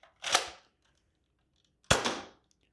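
A modified Nerf Retaliator blaster fires foam battle camo darts from a 10-round banana magazine through a chronograph barrel, two sharp separate pops about a second and a half apart, with no talking.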